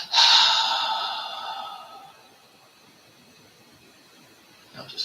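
One long, breathy exhale during a breathing exercise, loud and close at first, then fading over about two seconds before a faint new breath begins.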